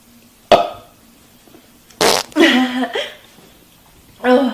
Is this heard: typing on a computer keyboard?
no